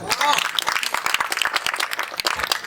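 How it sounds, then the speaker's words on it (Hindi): Applause from an audience at a Hindi poetry recital, a dense crackle of many hands clapping that fills the whole short stretch at steady strength. "अभिनंदन की तालियां होनी चाहिए"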